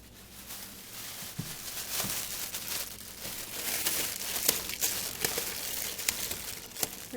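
A reusable plastic cover with an elastic edge crinkles and rustles as it is stretched over sprouted wheat bread dough, close up, in repeated crackling bursts.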